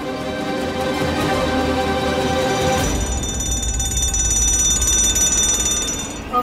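Inside a hospital, a fire alarm bell rings loudly and continuously, its metallic clangour shifting in tone about halfway through and carrying on steadily to the end.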